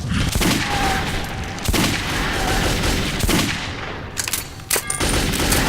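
Pistol shots in the video game Metro 2033, a few loud blasts rising out of dense, noisy combat ambience, followed by fainter clicks and rattles.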